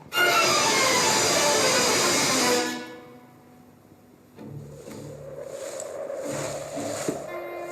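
A train rumbles past with a loud, broad roar that fades away, followed by a steadier, quieter rolling clatter with faint squealing tones.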